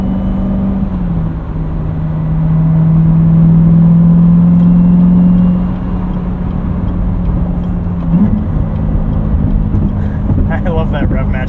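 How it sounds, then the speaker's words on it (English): Engine of a 2019 Chevrolet Corvette Z06 with a seven-speed manual, driven at night, swells in a steady drone for a few seconds as a rev-matched downshift blips the throttle, then settles back under cabin noise. "I love that rev match downshift."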